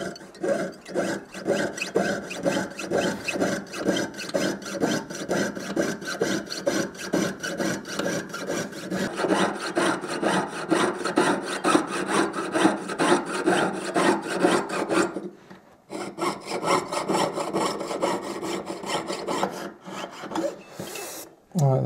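A hand saw cuts out a wood inlay for a ginkgo leaf design, steady rapid rasping strokes close up, briefly pausing before the sawing resumes.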